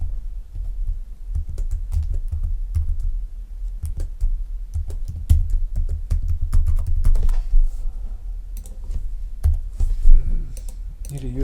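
Close, steady typing on a computer keyboard, a continuous stream of quick key clicks with slight pauses, while a voice speaks faintly in places.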